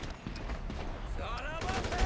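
Rapid bursts of gunfire from a gun in the video game GTA 5, mixed with loud game effects and voices shouting throughout.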